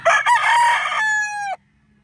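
A gamefowl broodcock at a gamefarm crows once, loud and close, ending in a long held note that cuts off sharply, with quiet after it.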